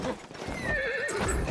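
A horse galloping in the Battlefield 1 video game, with a short whinny and quick rhythmic hoofbeats up close over a noisy battlefield backdrop.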